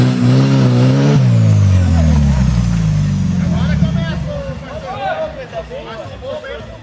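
A loud off-road vehicle engine revs hard and roars while stuck in a mud bog on a trail ride, the pitch rising and falling, then easing off as shouting voices and crowd chatter take over.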